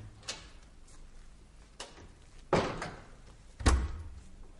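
A door in an interview office opens and closes as someone leaves, giving a few separate thuds and knocks spread over several seconds, the last two louder and closer, with no talk.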